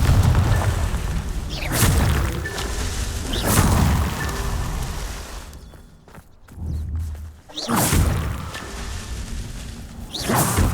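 Blasting-spell explosions in the Hogwarts Legacy video game land as deep booming bursts with rumbling tails, several loud blasts separated by a brief quieter gap.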